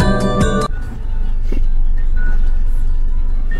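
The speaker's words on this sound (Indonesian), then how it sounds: "Lagi naik taksi." A taxi drives along a street in Japan with a steady low engine and road rumble filling the cabin; a short burst of a melodic chime or jingle plays at the very start before the drone settles in.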